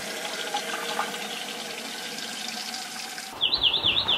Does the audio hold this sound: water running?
yes